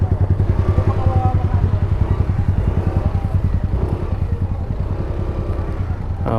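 Motorcycles are handled and loaded aboard a ship at a port, with a steady engine rumble and rhythmic clattering running throughout at close range, loud and continuous.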